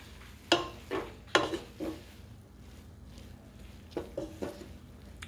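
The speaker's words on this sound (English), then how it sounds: "you just want to stir her up until she good and melted" A utensil stirring butter as it melts in a pot for s'mores popcorn, a few soft scraping clinks against the metal over a faint sizzle, close and quiet.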